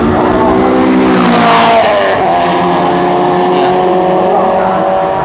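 A loud race car engine roars past up close at Chang International Circuit racetrack, its pitch sliding downward as it passes, with a voice faintly under the noise.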